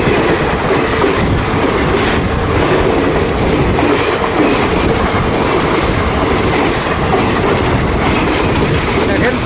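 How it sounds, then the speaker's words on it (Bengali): A train races past at high speed at night, a loud, sustained roar of wheels and carriages with a steady clickety-clack rhythm, heard close to the track throughout. "ইতিমধ্যে রেলটা এসে গেছে। আপনারা দেখেন কত স্পিড যায়"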